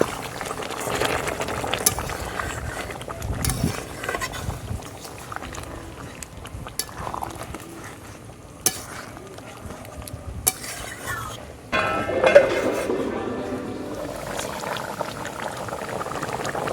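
Jackfruit curry bubbles and simmers in a pot after hot water is added, while a spoon stirs and scrapes, with intermittent clinks and a louder pour-like swell later.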